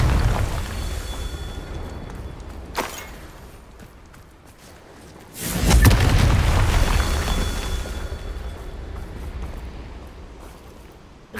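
Confringo fire spell blasts in the video game Hogwarts Legacy: a sharp crack near three seconds, then a louder, deep booming burst around five and a half seconds that rumbles and slowly fades under a steady background hum.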